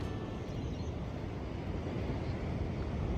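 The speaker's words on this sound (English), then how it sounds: "Oh, there's another plane." An airplane flies overhead, heard as a steady broadband rumble and roar with no distinct peaks, mixed with wind and outdoor noise near a rocky shoreline.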